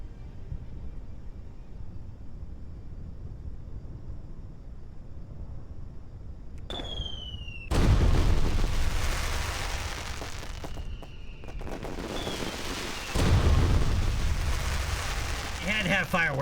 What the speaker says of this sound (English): You had to have fireworks.